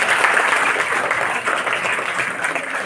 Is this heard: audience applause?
yes